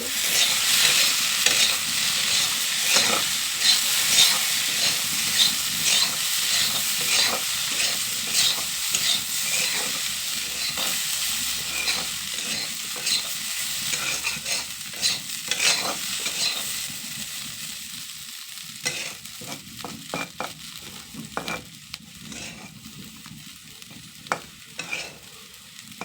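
Food stirred in a sizzling pan for a long stretch, a steady hiss under repeated scraping strokes of a spoon against the pan, close and fairly loud, with no talking.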